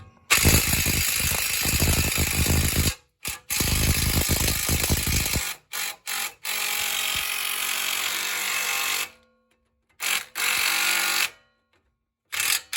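Loud, harsh mechanical bursts from loosening the CV axle nut on a 2006 Honda Odyssey with a long bar on the wrench, broken by short silent gaps, with a rapid clattering stretch at the start and steadier grinding noise later.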